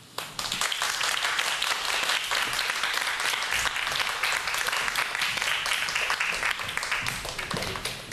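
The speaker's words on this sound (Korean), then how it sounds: "오늘 강연을 맡아주실 위드로봇의 김도윤 대표님 큰 박수로 맞아주시기 바랍니다." Loud, sustained applause from a lecture audience welcoming a company CEO to the stage, dense continuous clapping that fills the whole stretch and tapers slightly at the end.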